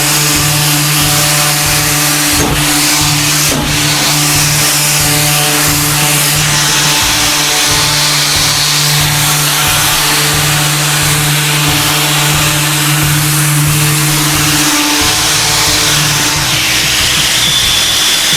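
A compact electric sander drones loudly and continuously with a steady mechanical hum while sanding an MDF door, briefly shifting pitch near the end.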